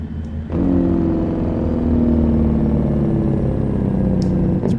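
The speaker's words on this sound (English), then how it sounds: "Hear the road noise." A truck in a truck simulator game rolls along a wet road in the rain. A low engine drone and road rumble kick in abruptly after a brief quieter start, then hold steady and fairly loud, with a couple of faint high clicks near the end.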